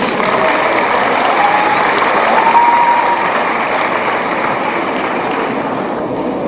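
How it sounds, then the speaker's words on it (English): Sustained applause from an audience in a hall welcoming a university vice chancellor onto the stage at a college diamond jubilee celebration, a steady dense wash of clapping that holds at an even level throughout. "please join us in giving a warm and heartfelt applause as we invite and welcome our Honorable Vice Chancellor on stage"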